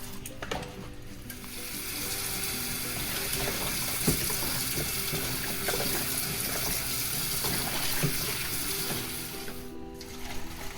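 Tap water runs steadily over oxtail meat as it is rinsed, a continuous close splashing hiss with faint clinks and no talking.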